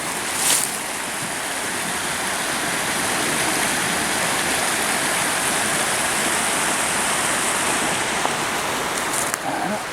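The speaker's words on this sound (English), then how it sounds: "This is where the creek crosses under the railroad right away." A creek flowing under a railroad trail makes a constant, fairly loud rushing of water across the whole stretch, with a couple of faint clicks and no talk.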